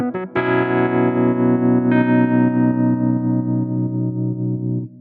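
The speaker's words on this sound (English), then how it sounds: "As well as adding the tremolo effect." A sustained Stage-73 V electric keyboard chord with a pulsing tremolo wobble rings out, joined by a second chord, loud and distorted, then cuts off.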